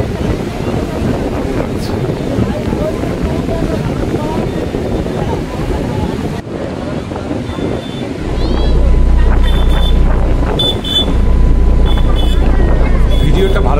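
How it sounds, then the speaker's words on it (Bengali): Sea waves roll in at the Dheu Sagar spot on Digha beach as a constant, loud surf roar. Strong wind buffets the microphone with a deep rumble, especially in the second half. "সমুদ্রের একটা আওয়াজ।"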